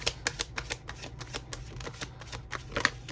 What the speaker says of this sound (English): Let's get 3 cards for Capricorn, please.